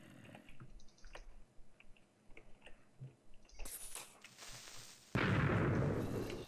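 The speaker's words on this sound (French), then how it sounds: "Oh, j'ai entendu une explosion." An explosion bursts in a Minecraft-style UHC game, arriving late after quieter scattered clicks and game noises and swelling into a loud, sustained roar.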